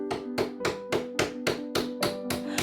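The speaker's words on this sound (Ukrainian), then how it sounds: "Цвяхи підіб'ю тимчасово в іншу сторону, щоб не заважали." Nails are hammered into a retro wooden cabinet with about nine evenly spaced, ringing metallic strikes at a steady rhythm. The blows are close and loud, with no talking.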